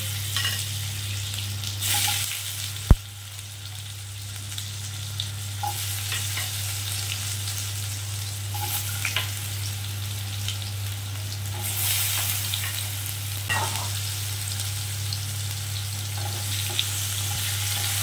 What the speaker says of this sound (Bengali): আমি তো একটুখানি হলুদ ছিটিয়ে ওলগুলোকে আমি প্রথমে ভালো করে ভেজে নেব।